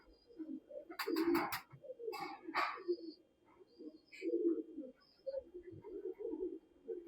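Breeder pigeons coo in low, soft, repeated throbbing calls, close by and steady throughout, with occasional brief rustles and sharp noises and no talking.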